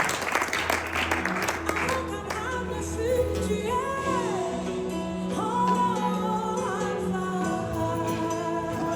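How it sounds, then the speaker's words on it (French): A church congregation applauds at a French-language service as a pastor is called up to preach, with clapping under music and singing voices that carry on throughout. "Ertis sous vos applaudissements."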